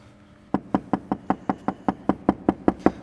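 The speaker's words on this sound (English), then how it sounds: "I'm going to knock on there and then knock on here" Fourteen evenly spaced knocks land on a bare, non-soundproofed car panel. Each is sharp and close, with a thin, tinny ring, struck at a steady rhythm of about four per second.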